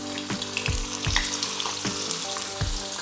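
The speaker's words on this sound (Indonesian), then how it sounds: "Kita goreng sebentar saja sampai dengan berubah warna." Chicken pieces, skin side down, sizzle steadily in a little hot oil, with a bright continuous crackle and a few low clunks from the pan, close and without talk.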